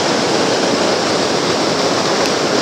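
Creek water rushing beside a canyon path, a loud, steady broadband wash that stays constant throughout and cuts out abruptly at the end.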